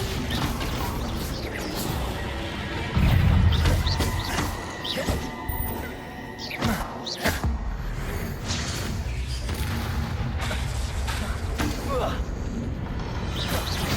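Bombarda blasting spells in the Hogwarts Legacy video game set off a heavy crash and boom, followed by swishes and rumbling debris under continuous loud game ambience.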